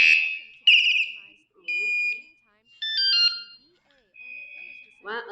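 A 113 dB wireless remote vibration-sensor bicycle alarm sounding loud, close electronic tones in a cycling sequence of chirps, warbles and steady beeps, with short gaps between bursts and no one talking.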